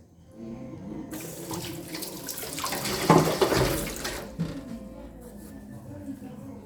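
Tap water gushes steadily through a household water filter, starting abruptly, swelling louder midway, then cutting off, with a person talking underneath.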